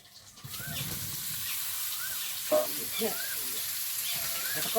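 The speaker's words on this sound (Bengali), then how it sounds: "কড়াই একটু তেল দিয়ে দেবো ওটা একটু ভেজে নেব" Fish heads fry in oil in a wok, a steady close sizzle that starts after a brief quiet moment and carries on with a few small clatters partway through.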